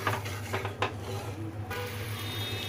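Sugar syrup for kaju katli being stirred in a pan over a slow flame, with light clinks and scrapes of a spoon against the pot over a low steady hum, no talk.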